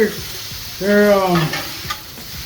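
Onions for street tacos sizzle in a pan as they are stirred, a brief loud scrape and rustle in the middle over a continuous frying hiss, with no voices.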